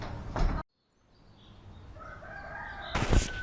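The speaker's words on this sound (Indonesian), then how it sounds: "Pagi menjelang, ayam berkokok pun saling saut menyaut kesana kemari." Roosters crow back and forth at daybreak, with several overlapping calls at a distance rising through the middle, framed by louder bursts of nearby noise at the start and end.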